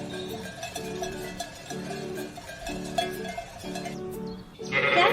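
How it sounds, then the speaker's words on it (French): Sheep bleat under a window in the morning, several repeated bleats in a regular rhythm against light background music, with a brighter burst of sound at the end. "Il entendit des bêlements sous sa fenêtre."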